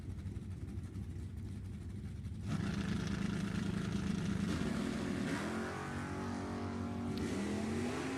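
Drag race between a 1969 Camaro and a 1966 Chevelle, with quiet idling that gives way to a sudden loud engine launch and a rising, revving roar as the cars accelerate away.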